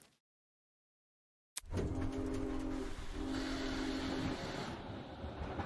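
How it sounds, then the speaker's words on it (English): In the video game Project Eden's Garden, after a brief silence, a train rumbles into motion with a steady low mechanical drone and a faint whine, continuous and moderately loud. "the train continued from its halt"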